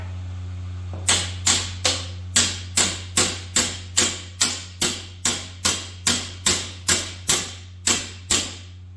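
A hammer taps the metal tabs of a Triumph Spitfire 1500 leaf spring in a steady rhythm of about sixteen sharp, ringing strikes, close and loud over a low electrical hum.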